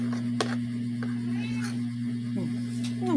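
A pet cat meows a few times, short rising calls over a loud steady electrical hum indoors, with a person talking nearby.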